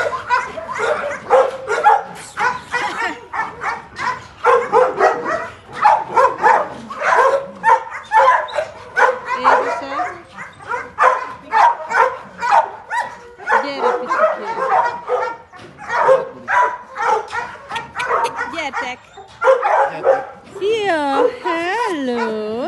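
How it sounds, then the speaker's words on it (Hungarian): An excited dog barks and yips in rapid bursts, loud and close, ending in high whimpering whines, while someone talks warmly over it. "Ez anyáé, ez a kutya!"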